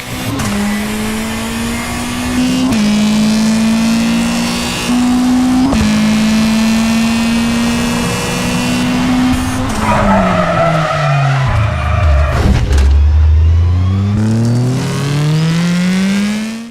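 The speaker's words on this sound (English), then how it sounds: "I adore the mean roar of all the engines of each vehicle" V-Rally 4 video game: rally car engines roar and rev continuously, pitch climbing through gears, with a deep dip and rising whine near the end and tire skids throughout.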